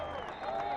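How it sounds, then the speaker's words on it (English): A stadium crowd at a USL Championship playoff football match between Phoenix Rising FC and Sacramento Republic FC cheers and claps in a brief, steady swell, with a commentator's voice faintly over it. "The crowd trying to urge their home side on."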